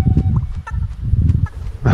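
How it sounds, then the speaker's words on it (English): A Fortnite video game chicken clucks and warbles in short bursts over a low rumbling background, sounding almost sing-song. "Are you singing to me, chicken?"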